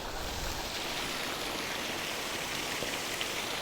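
Steady rushing water of a little-known waterfall at Black Hill, a broad continuous roar of falling water heard close and alone, with no voices.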